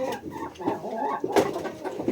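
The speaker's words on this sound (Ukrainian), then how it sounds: "не кричи курка." A chicken clucks in short bursts, close by, with a few louder squawky notes in the middle.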